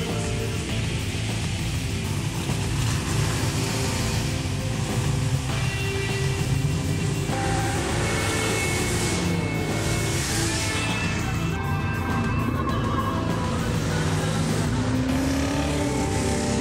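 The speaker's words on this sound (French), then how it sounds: "C'est vraiment un énorme moteur qui se cache sous le capot de cette Ford Mustang." A Ford Mustang with a very large engine is driving, its loud, steady engine rumble filling the cabin throughout with shifting pitch as it pulls, and no talking heard.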